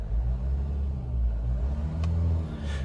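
A 2022 Mahindra Scorpio Classic S11 with a tuned 132 PS engine rumbles steadily at close range, with a deep, continuous engine drone that swells slightly as it is revved.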